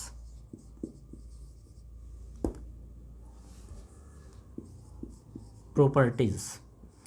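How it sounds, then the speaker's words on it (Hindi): Marker or chalk strokes on a board during a Class 11 physics lesson on work, energy and power, a series of short, faint scratches spread through the clip, with a teacher's voice briefly heard near the end. "हम यहाँ पे लिखेंगे प्रॉपर्टीज़"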